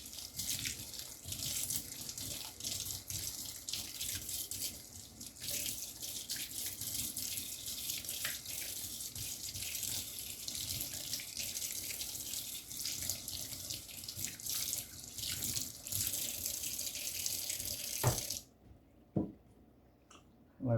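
Instant Pot parts rinsed under a running kitchen tap, a steady loud splash of water on metal that runs continuously for about eighteen seconds, then cuts off, leaving a few faint drips and clicks.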